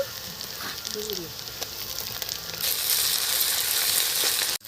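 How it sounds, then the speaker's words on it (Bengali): Onion frying in a pan with garlic paste and ginger added, a steady close sizzle with a few scraping stirs, growing louder and denser partway through. "পেঁয়াজের মধ্যে আমি রসুন বাটা দিয়ে দিচ্ছি আদা দিয়ে দিচ্ছি"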